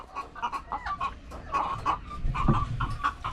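Several pet chickens kept together in a cage cluck and murmur in short, irregular bursts close by, with soft rustling and a few louder calls layered over a low background.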